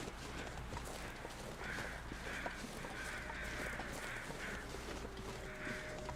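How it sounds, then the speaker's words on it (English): Crows caw in The Long Dark, a cold wilderness survival game: a run of harsh, repeated calls at moderate distance over a steady low ambient rumble, with no talking. "There are some crows over there."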